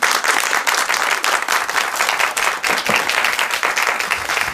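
Steady, dense applause from a crowd, many hands clapping continuously at a fairly loud level throughout.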